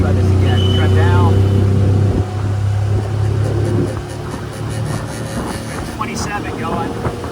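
Outboard motor on a 1971 13ft Boston Whaler, a loud steady drone that drops off partway through and continues lower under rushing wind and water noise.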